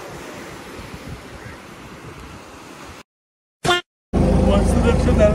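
Surf rolls steadily onto the shore of a blue sea on the Kerala coast, a broad wash mixed with wind buffeting the microphone, broken by a short dropout partway through.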